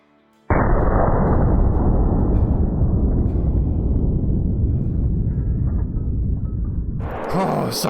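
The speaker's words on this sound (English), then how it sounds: "We're gonna take this shot, guys." A .300 Magnum rifle fires in the hunting game Call of the Wild. A sudden loud blast gives way to a long, heavy rumbling tail that fades slowly, with a brief sharp noise near the end.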